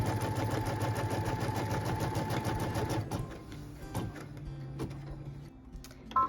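A quilting sewing machine tacking down fabric runs in a fast, steady mechanical chatter for three seconds, then slows to softer, intermittent stitching with light clicks and handling noises.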